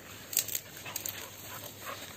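Pit bull dogs out in a forest with tall grass make soft, close whimpers and brief yips, faint against quiet outdoor background.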